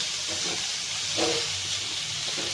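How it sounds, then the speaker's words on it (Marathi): Onion sizzling in a little oil in a pan, a steady close hiss with faint crackles throughout and no talk. "कांदा टाकून घ्यायचा आपल्याला ही जास्त परतायचं नाहीये"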